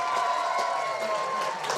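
A crowd at a high school baseball regional final applauds as the pitcher walks off the mound, a steady wash of clapping and cheering with no clear breaks that sounds moderately distant.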